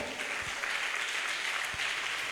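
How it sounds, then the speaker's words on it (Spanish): A congregation at a church service applauds in a fairly soft, steady patter of many hands that carries on evenly without a clear peak. "Denle un aplauso a Cristo."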